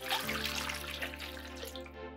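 Half a litre of milk pours into a Thermomix (Bimby) bowl for baby yogurt, a steady close gurgling stream lasting about two seconds with no talking.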